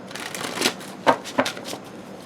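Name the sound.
shuffling and handling tarot cards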